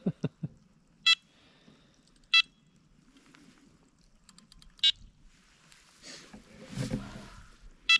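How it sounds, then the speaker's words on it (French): Electronic bite alarm on a carp fishing rod beside water in winter, sharp high beeps sounding singly at irregular intervals, fairly loud and close over quiet background with faint movement. "Je crois que c'est le seul bip qu'on va entendre de la journée"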